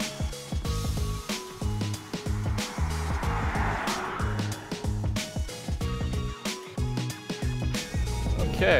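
A 2021 Kia Sorento X-Line AWD drives on an off-road course. Engine drone rises and falls with a rhythm of repeated throttle pulses, and tire and body noise sit close to the microphone throughout.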